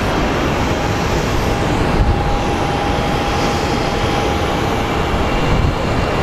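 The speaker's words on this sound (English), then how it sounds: "And our flight from Dallas is arriving." An airliner on a flight from Dallas arrives at Phoenix Sky Harbor airport, a loud, constant roar of jet engines with a faint high whine running through it.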